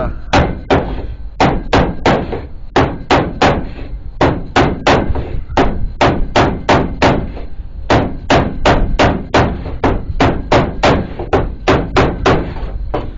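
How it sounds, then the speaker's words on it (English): A hammer taps trim off a Buick Skylark in sharp, close, evenly paced knocks, roughly two per second, sounding alone with no talk. "I'm just gonna gradually tap it off"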